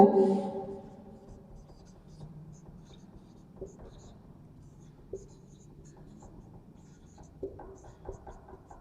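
Capital letters are written on a board in quiet, scratchy strokes with short taps between them, after a brief louder sound at the very start.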